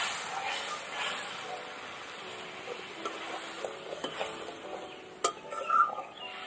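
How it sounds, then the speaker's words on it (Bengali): Mustard spice paste being stirred and fried in a pan: faint sizzling under soft scraping and clinks of a spoon, ending with a sharp metallic tap and a few louder scrapes. "মশলাটা ভালো করে কষিয়ে নেব।"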